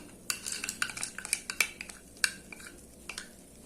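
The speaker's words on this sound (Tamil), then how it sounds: "இப்போ நம்ம இந்த வறுத்த முந்திரி திராட்சை இதில் சேர்த்துடலாம்" A spoon stirs roasted cashews and raisins into a thickened rava and coconut mixture for laddu in a pan, giving close, irregular metallic clinks and scrapes against the pan with quiet gaps between them, with no voices.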